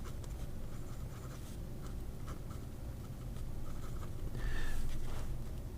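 A large Yongxu 296 fountain pen with a 1.1 steel stub nib scratches across Amalfi paper, a close, soft, continuous scritching with occasional firmer strokes and no voices.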